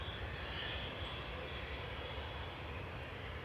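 Scandinavian Airlines Embraer E195 jet departing Manchester Airport for Copenhagen, heard as a steady, fairly faint broadband engine rumble and hiss with no change in level and no talking.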